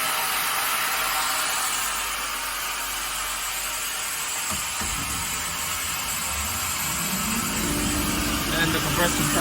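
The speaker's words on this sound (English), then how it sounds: "And the compressor started again." A Kaeser screw air compressor runs with a dense, steady mechanical roar, and a low rumble swells up partway through as it starts again, continuing loud to the end.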